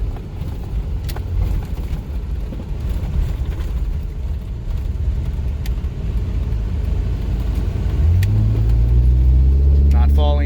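A lifted Ford Econoline-type van on a night trail run, its engine rumbling under heavy road noise, then rising into a louder, deeper drone as it accelerates near the end, with a voice talking over it.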